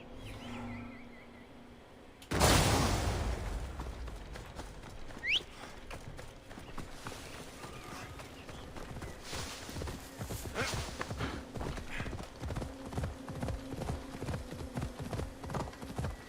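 Hooves clip-clop steadily at a gallop in Assassin's Creed Odyssey's Atlantis expansion, loud and close with a rhythmic pounding throughout, after a brief quieter stretch of game ambience; no clear neigh stands out.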